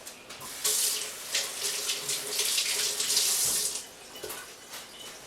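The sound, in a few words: rinsing hands under running tap water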